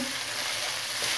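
Onion and ginger-garlic paste frying on a high flame while browning to golden, a loud unbroken sizzle close by with no talk.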